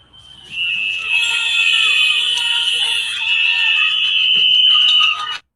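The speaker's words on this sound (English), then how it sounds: "You can hear the whistles." Sustained shrill whistles blown by protesters during a street confrontation with ICE agents, several piercing tones overlapping almost continuously for about five seconds, loud and close, with faint voices underneath.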